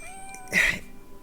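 A pet cat in the MTG Arena game gives one short, clear meow in the middle of a quiet, faintly humming background, close and moderately loud.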